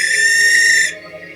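A loud owl screech from above, one sustained shrill cry that cuts off abruptly after under a second, leaving a faint tail.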